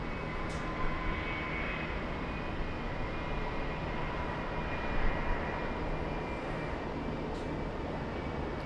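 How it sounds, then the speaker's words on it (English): Jet aircraft with Pratt & Whitney engines taxiing and lining up at LAX, heard as a steady, broadband engine roar with a faint whine, continuous and moderately distant with no talk. "Those are the Pratt & Whitneys lining up"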